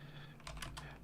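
Typing on a computer keyboard, a quick cluster of soft clicks and taps arriving over a low background hum, faint and close.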